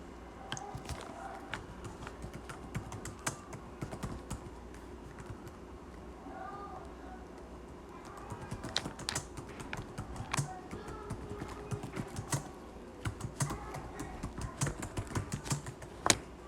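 Fingers type on a computer keyboard, a dense run of quick close clicks and clacks with brief pauses, sustained for the whole stretch at a low, intimate level.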